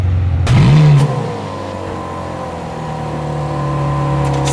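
A Porsche 911 Carrera 3.0 engine cranks briefly, catches and flares into a loud rising rev, then settles into a steady, close idle with no talking.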